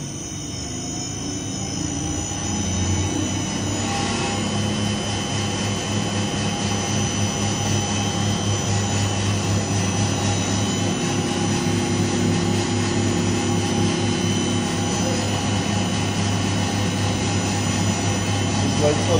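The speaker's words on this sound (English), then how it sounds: "So I'm just going to wait for it to go to full speed on both the low pressure and the high pressure pump." At a water treatment plant, low and high pressure pumps start up and hold a steady, loud mechanical hum with a rising drone that settles into a constant roar, continuous throughout.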